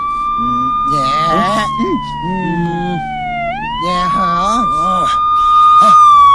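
A police jeep siren wails loudly and continuously, its pitch sweeping down and back up, while people talk over it.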